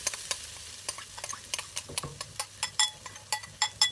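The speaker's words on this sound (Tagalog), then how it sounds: "And then let's fry the potato." Potato frying in a pan with butter to follow, for a simple rice bowl: steady sizzling broken by sharp, repeated stirring scrapes and clicks close to the pan, with no voices.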